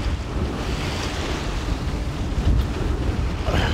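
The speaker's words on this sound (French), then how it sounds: "Actuellement, on a 11 nœuds de vent" Wind in 11 knots rushes steadily across a sailboat under way, a loud broadband roar mixed with water and wave wash, with no voices.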